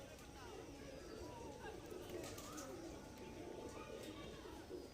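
Racing pigeons coo in a steady, low murmur against constant background noise, close by and continuous throughout.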